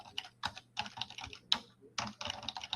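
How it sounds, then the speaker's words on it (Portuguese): Fingers tap a computer keyboard in quick, uneven bursts of clicky keystrokes with short pauses between runs, close and fairly quiet, while text is entered into a file; no one speaks. "Eu estou digitando qualquer coisa dentro desse arquivo."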